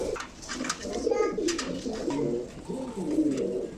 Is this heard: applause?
no